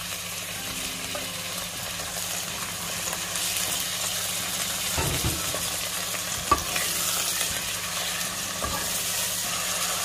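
Buffalo meat frying with browned, caramelized onions, a steady close sizzle with stirring scrapes and a few soft knocks running throughout, with no voices.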